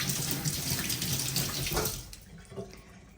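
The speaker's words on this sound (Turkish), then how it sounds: "Şu patateslerimi de bir yıkayayım." Potatoes being washed under a running kitchen tap, a steady splashing stream of water into a sink that fades and thins toward the end, with no talk.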